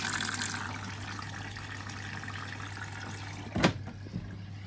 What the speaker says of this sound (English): And it will fill up to about, not that far, but just high enough that it's safe for the heater to turn on.